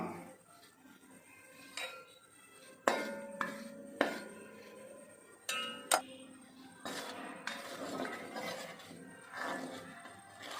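A metal spoon stirs a beef pickle mixture with a small spoonful of salt in a pot, giving close, irregular clinks and scrapes against the pot rim with short pauses between strokes.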